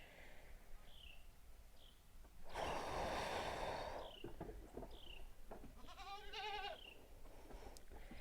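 Goats bleat loudly at close range, with one long broad bleat and another wavering one, set among scattered bird chirps and outdoor background noise.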